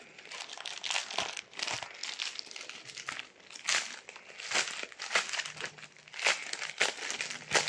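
Crinkling plastic wrapping on a package holding a green hard phone case for an Honor X9b 5G, torn and crumpled open in close, uneven bursts of rustling with short pauses and no talk.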